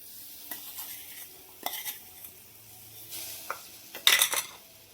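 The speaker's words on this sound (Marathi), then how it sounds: "कढईमध्ये गूळ घालून घेऊया" Jaggery being stirred in a kadhai for sesame til vadi, with scattered metallic scrapes and clinks of a spoon against the pan, one louder clattering burst near the end, fairly quiet overall with no talking.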